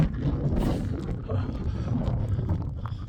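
Steady rushing wind buffets the microphone with a low, continuous roar throughout, no voices heard.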